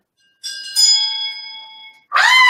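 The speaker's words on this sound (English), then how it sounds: "whenever you hear that bell, you know what that means" A bright bell rung to announce the match of the week on a relationship talk show: one clear ding with a ringing decay, then a second strike near the end, loud and close with no talking.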